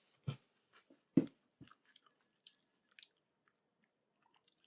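Dry Magic Spoon cereal, a colorful blue, yellow and pinkish-red mix, crunched in the mouth: a few sharp, close bites and chews spread over several seconds, with quiet gaps between them and no talking.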